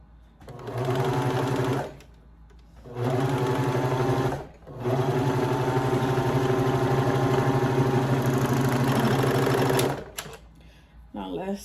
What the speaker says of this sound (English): let's sew this part first